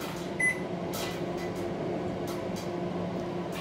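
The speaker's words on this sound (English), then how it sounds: "I'm doing 2 more minutes, and I can hear popping sound there as well." Home-grown popcorn kernels popping in a microwave oven: a few scattered, faint pops over the oven's steady, low running hum.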